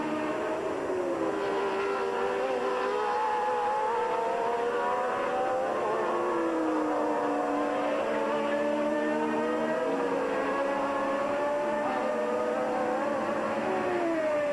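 Formula 1 race cars at Watkins Glen, 1980 United States Grand Prix, scream past in a continuous high-pitched engine wail, rising and falling as cars lap, loud and sustained throughout.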